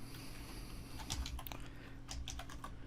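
A computer keyboard is tapped nearby in a short run of light, quick keystrokes as a name is typed, soft and close with no voices.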